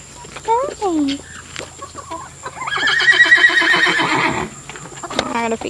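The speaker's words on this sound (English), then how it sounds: "I gotta feed these chickens." Chickens clucking and calling on a farm at feeding time, a busy burst of overlapping fowl sounds in the middle, with a person talking briefly before and after.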